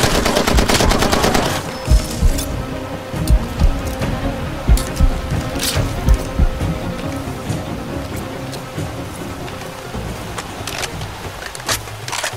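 Far Cry 2 gunfire pounds close and loud: a rapid automatic burst, then a run of heavy, evenly spaced shots, then sporadic reports trailing off over a constant background rumble.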